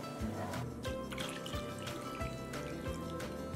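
Cooking liquid from country ham for red eye gravy poured off into another vessel, a steady close trickle and drip of liquid with soft splashes running throughout.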